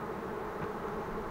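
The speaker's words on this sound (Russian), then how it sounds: "А вот пчелы" Honeybees buzz steadily at a village apiary, a dense, continuous hum filling the air close by with no pauses.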